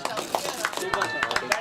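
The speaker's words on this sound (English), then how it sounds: "Huge lots of applause in the dugout of the Tigers for Srinivas." A cricket team's dugout applauds during a corporate league semi-final, with scattered claps mixed into a lively outdoor crowd while a commentator talks over them.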